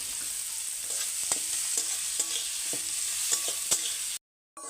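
Chopped onion frying in a pot over a homemade stove for aloo bhorta, with a steady loud sizzle and regular scraping stirs about every half second, cutting off abruptly near the end.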